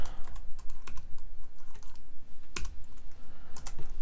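Keystrokes on a computer keyboard while renaming a control in music production software, a quick irregular run of close, crisp clicks with a few louder taps standing out and no voices.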